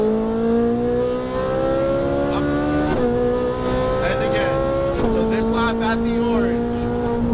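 A Ferrari 458 Italia V8 on a race track, heard from on board, pulls steadily under throttle with rising engine pitch, dropping at two upshifts before climbing again, loud and continuous throughout.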